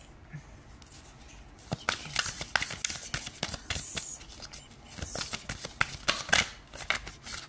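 Tarot cards being shuffled by hand, a run of crisp riffling and flicking bursts with short pauses between, close and fairly quiet, with no talk.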